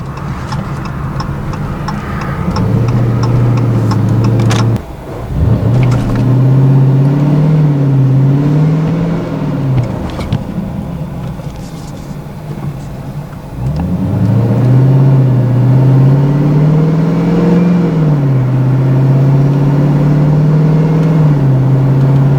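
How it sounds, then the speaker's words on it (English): A car engine idles steadily alone with a low droning hum, dips sharply near the five-second mark as it nearly stalls, then picks back up and rises and falls in pitch a couple of times. "Okay, I'm going to see if it'll stall again."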